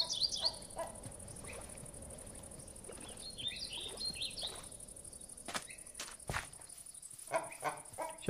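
Chickens clucking in the video game Minecraft, a few short cackles scattered over a steady insect-like ambient bed, fairly quiet, with occasional sharp clicks.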